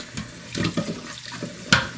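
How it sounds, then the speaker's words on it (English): Cold tap water runs over food in a sink while it is rotated by hand, a close, uneven splashing with a few louder spatters. "While the cold water is running over it."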